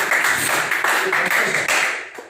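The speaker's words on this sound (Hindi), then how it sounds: "चलिए थोड़ा ताली बजाइए ना।" Audience clapping hands at a talk on sanitary pads, a short burst of crowd applause with uneven claps that fades toward the end.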